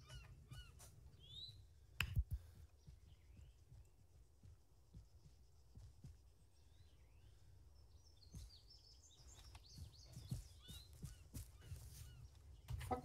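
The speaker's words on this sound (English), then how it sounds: "Fucking seagulls." Seagulls in Arma 3 calling out over a Chernarus map, with scattered squawks and honks recurring across the clip over a steady low rumble of wind and ambience, punctuated by a few sharp knocks.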